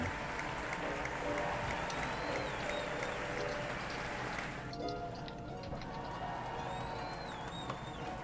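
Audience applause and cheering fill a hall during the AGS Awards 2019 ceremony stream, a dense steady wash of many hands that continues the whole time, with a short dip partway through and faint crowd voices underneath.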